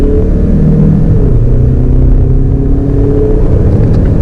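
A Mazda CX-5 with the 2.2-litre diesel and front-wheel drive pulls hard at full throttle, its loud, close engine drone and rumble rising steadily and continuously with no break.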